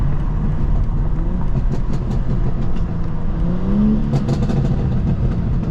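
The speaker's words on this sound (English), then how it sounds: "oh wait, downshifts." A BMW G87 M2 with about 780 wheel horsepower downshifts and accelerates. Engine pitch rises under heavy wind and road noise, with short crackling bursts near the end.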